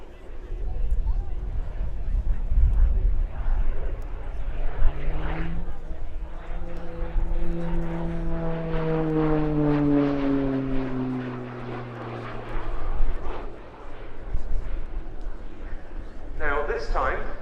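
A Slovenian PC-9M turboprop flies display aerobatics at RIAT 2024, its propeller drone swelling and falling in pitch as it sweeps past, loud at its closest then fading, with an announcer talking over it throughout.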